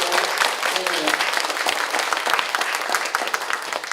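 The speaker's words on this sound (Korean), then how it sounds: "오늘 패널들에게 힘찬 박수 한번 보내주시고" Hall audience at a Won Buddhist mind-study talk concert clapping for the panelists, dense sustained applause from many hands throughout, with a voice briefly over it.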